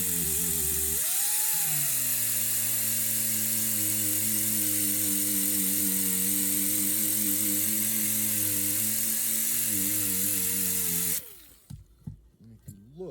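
Power polisher running with fine gray grit pads during a polishing job, a steady high whine with a pitch dip early on, continuing loud and near for about eleven seconds before cutting off.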